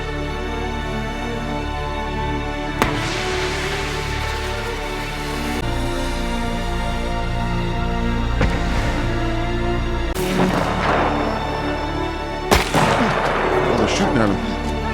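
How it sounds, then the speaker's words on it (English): Gunfire in a war movie scene, sharp reports and booms breaking over a continuous rumbling soundtrack, loud and spaced irregularly, with heavier bursts late in the clip. "Oh, they're shooting at him."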